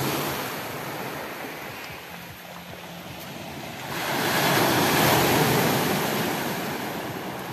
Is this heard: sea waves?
yes